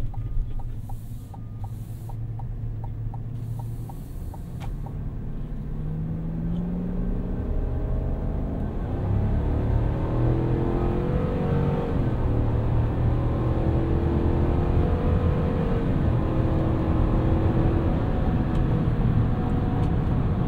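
A 2023 Chevrolet Silverado 1500 ZR2 Bison pickup accelerating up a highway on-ramp, its engine a steady low rumble that rises in pitch and loudness as speed builds, with constant road and tire noise inside the cab.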